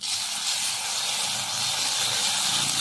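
Ginger paste dropped into hot oil already tempered with whole cumin seeds and a bay leaf while making a fish curry, giving a loud, steady, broad hiss that holds without pause.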